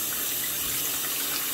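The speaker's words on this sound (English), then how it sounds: "So I just come over here and I wash it real quick." Tap water gushes steadily over a cast iron pan in a sink, a loud continuous rushing wash with no voices.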